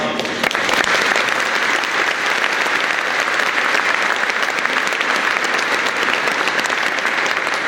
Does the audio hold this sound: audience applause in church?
yes